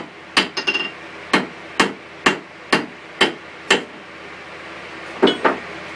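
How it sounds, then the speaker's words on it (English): Hand hammer strikes ring out on an anvil as hot steel for a forged leaf is squared off, about nine sharp, evenly spaced blows with a quick cluster near the start and a double hit at the end. "we're going to pound out all those fuller marks, and it's just going to be square"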